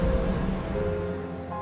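A train rolls past in Trails of Cold Steel IV, a steady loud rumble with a faint metallic wheel squeal riding over it, continuous throughout with no voices.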